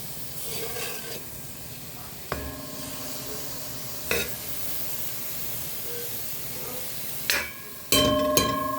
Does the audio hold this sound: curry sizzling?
yes